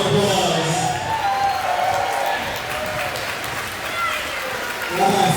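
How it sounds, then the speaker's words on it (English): A wrestling crowd applauds and cheers with scattered whoops, the clapping steady and fairly loud throughout, and a voice comes through in places. "Y'all give yourselves a round of applause."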